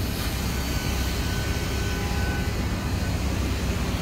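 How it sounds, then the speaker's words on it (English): A city bus engine idles and rumbles at a Dubai bus stop, a broad continuous drone with steady low-end roar and faint whining tones, moderately loud and unbroken. "We hear the bus"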